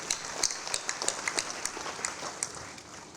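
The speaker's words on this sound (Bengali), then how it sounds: "তাদের উদ্দেশ্যে আমরা একটা হাততালি দিই" Audience applause at a book fair, dense rapid clapping from a crowd, steady then tapering off slightly toward the end, with no talk over it.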